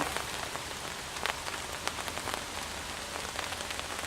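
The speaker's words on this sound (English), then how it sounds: "Here comes the rain." Rain falls steadily on the surface around a hammock camp, a dense, soft hiss broken by scattered sharper drops tapping close by, with no one talking.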